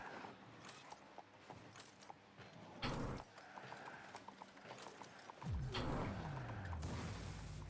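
Rhythmic clip-clop patter like horse hooves, actually a video game car's engine, runs steadily under game noise, with a louder whooshing burst and a rising, falling tonal sweep near the end.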